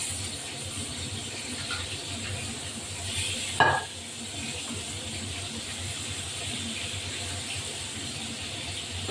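Tilapia fish frying in hot oil in a pan, a steady broadband sizzle running throughout, broken by one sharp clatter of a utensil against the pan midway.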